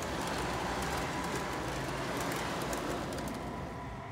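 O scale model train cars roll along a track on a layout shelf, a steady close rumbling rush that holds for a few seconds and fades slightly at the end.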